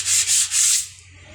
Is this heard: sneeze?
no